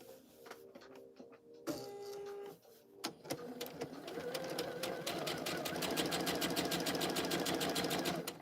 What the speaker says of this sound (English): I'm just gonna do elongated stitches here